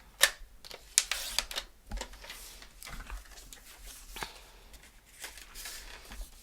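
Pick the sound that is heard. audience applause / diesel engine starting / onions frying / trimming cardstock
trimming cardstock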